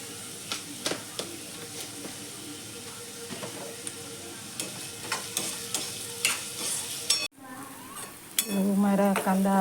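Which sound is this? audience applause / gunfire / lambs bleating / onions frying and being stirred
onions frying and being stirred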